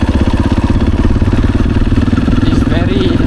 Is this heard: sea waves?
no